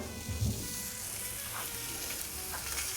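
A homemade McRib-style patty cooking on an adjustable grill over lowered heat gives off a steady, close sizzle and spatter, with a brief thump near the start.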